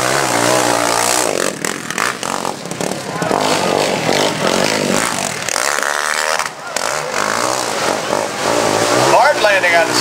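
A Husaberg motocross bike revs hard and loud on a steep hill climb at Poags Hole, its engine snarling and fluctuating steadily throughout, with a crowd and an announcer's voice blended into the noise.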